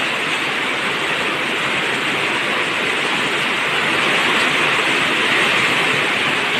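A sudden heavy downpour pours over a softening dirt road beneath an overcast sky, a dense, steady roar of rain that holds loud and even throughout, with no voices.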